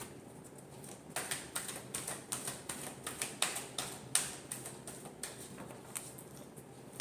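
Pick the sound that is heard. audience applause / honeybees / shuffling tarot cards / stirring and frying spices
shuffling tarot cards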